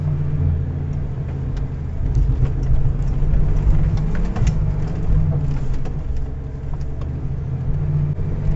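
A car engine rumbles steadily up close and pulls away in a low, continuous drone, with faint clicks and rattles over the top.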